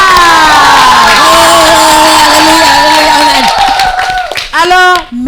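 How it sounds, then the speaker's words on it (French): Children at a kindergarten in the Katiola diocese cheer and shout joyfully, a loud, sustained chorus of high voices with some clapping, fading into scattered shouts near the end. "Est-ce que ça ne mérite pas des applaudissements? On va pousser des cris de joie."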